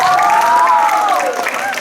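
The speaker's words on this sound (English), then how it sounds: "Can we give them a massive round of applause?" A school audience at a house science quiz gives a round of applause, steady and fairly loud for the whole stretch, with cheering voices rising and falling above the clapping.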